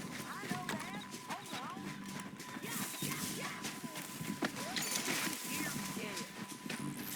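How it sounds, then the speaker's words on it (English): Horse hooves clip-clopping in the open-world western game Red Dead Redemption 2, a quick irregular patter of hoofbeats under ambient game sound and background voices, with a thin steady tone running throughout. "horses."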